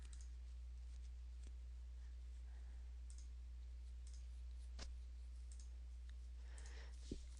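A computer mouse gives a few faint, sparse clicks over a steady low hum, quiet and close, with long pauses between them and no talk.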